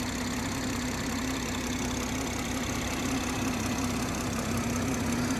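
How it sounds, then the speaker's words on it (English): A BMW M140i Shadow Edition with automatic gearbox ticks over at idle, a steady low engine hum heard up close with no one talking. "You can hear it ticking over really sweetly."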